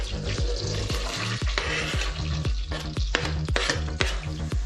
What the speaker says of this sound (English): Now we'll add half an onion finely chopped.